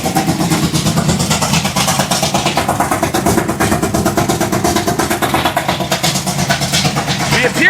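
A 503 cubic inch big block Ford gasser engine idles loud and close with a lumpy, throbbing rhythm, a rapid, steady pulse of exhaust beats.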